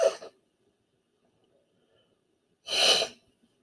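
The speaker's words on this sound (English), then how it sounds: "I'm gonna sneeze." Two sharp sneezes, one at the very start and a fuller one near the end, separated by a few seconds of near silence.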